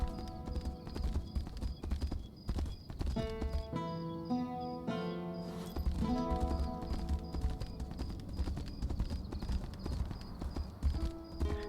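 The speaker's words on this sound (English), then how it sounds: "Good thing we got a horse, because we can kind of get to places a lot faster." Horse hooves clip-clopping at a steady galloping rhythm in the video game Tainted Grail: The Fall of Avalon, loud and close over a layered orchestral music score, with an occasional whinny.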